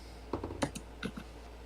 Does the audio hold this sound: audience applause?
no